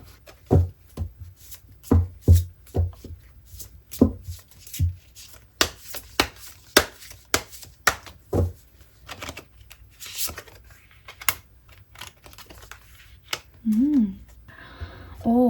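Tarot cards being shuffled and drawn by hand, a quick run of crisp riffling slaps and soft rubs with brief pauses, close and clear, then a few faint hand sounds near the end.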